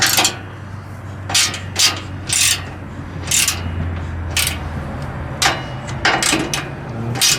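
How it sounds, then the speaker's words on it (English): Installing an aluminum engine skid plate on a Lexus GX470, with a series of short rasping ratchet bursts and metallic clicks from tightening bolts, close and moderately loud. "So I'm just gonna bolt it now."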